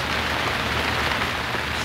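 Heavy rain pours steadily during a Kilimanjaro climb, a dense, even hiss of downpour hammering surfaces nearby, constant and loud without a break, with no voices.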